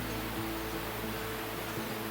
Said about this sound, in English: That's it then, Todnow Waterfall.